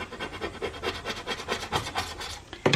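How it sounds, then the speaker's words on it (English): A scraper rasps rhythmically back and forth over a glass stove top to lift residue, steady close strokes ending with a brief sharper knock. "so there's still a little bit more to scrape there"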